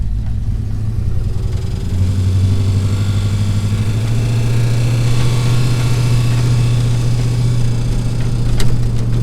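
A warmed-up 1978 Jeep J10 truck engine idles close by at a steady, low, even rumble that holds for the whole stretch without revving.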